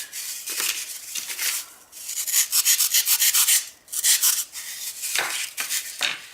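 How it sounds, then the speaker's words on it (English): Close, rhythmic scraping of emery cloth on a shaped climbing hold in bursts of quick back-and-forth strokes, with short pauses between runs. "Put a little more off, and then we'll probably start sanding it."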